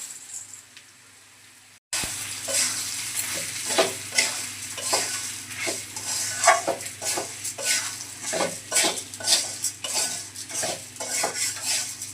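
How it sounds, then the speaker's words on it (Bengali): After a quiet moment, rice and lentils crackle in a hot pan as a metal spoon scrapes and clinks in a steady stirring rhythm. "চালটা ভালোভাবে ভেজে নিছি।"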